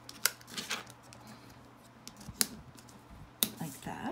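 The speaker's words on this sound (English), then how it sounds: "I'm going to be folding inward now to make mountain folds essentially" Paper being folded and creased into mountain folds for a pop-up card: three sharp crisp snaps of paper spaced a second or so apart, with softer rustling between them, close up and fairly quiet.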